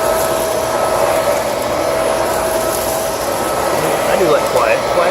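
A Shark vacuum cleaner runs steadily close by, a loud continuous whirring roar as it sucks up crumbs, with faint rattling and clicking near the end.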